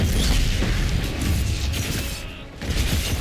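Fire mines exploding in Dragon Age: Inquisition during a fight with Red Templars: loud, dense rumbling blasts and crackling bursts rolling together, dipping briefly before a final swell.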